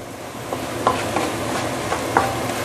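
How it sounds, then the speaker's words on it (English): Belacan shrimp paste powder added to a hot sizzling pan for a spicy tamarind stingray fish dish, with a steady loud frying hiss and a few soft scraping stirs spaced through it, no voices. "So I'm adding the belacan powder"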